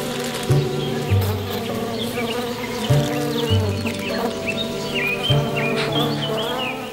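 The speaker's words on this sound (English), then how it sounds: "But he probably shouldn't sit on a log full of hot-tempered bees." A swarm of hot-tempered bees in a log in the Russian wilderness gives a dense, continuous buzzing up close, with a few low thumps and faint bird chirps mixed in.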